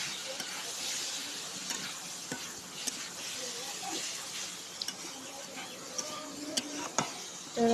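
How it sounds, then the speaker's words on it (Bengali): Turmeric and spices fry quietly in a pan under a soft sizzle, with scattered scraping and tapping as the mixture is stirred. "আমি সুন্দরভাবে মশলাটা কষিয়ে নিচ্ছি"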